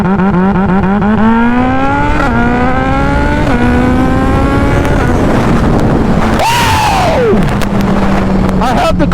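A Gen 3 Suzuki Hayabusa motorcycle launching in launch control mode, its engine loud and close as it climbs through several gear shifts, then drops sharply and settles to idle, with a brief whooshing noise near the end.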